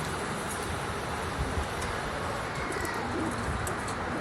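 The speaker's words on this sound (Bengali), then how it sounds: "কবুতর দুটো দেখেন" Pigeons of a fancy breed, a tiger-marked pair with crests, coo softly amid steady broadband background noise, with no voices in the clip.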